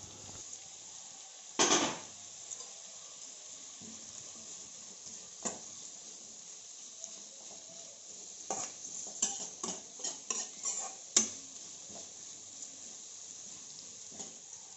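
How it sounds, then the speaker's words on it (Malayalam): Sliced onions fry in coconut oil with a soft steady sizzle, while a spatula stirs and scrapes the pan in scattered bursts of louder clatter. The sound is close and there is no talk. "വെളിച്ചെണ്ണ ഒഴിച്ചിട്ട് നമ്മൾ സവോള നല്ലോണം വറുത്തെടുക്കുക."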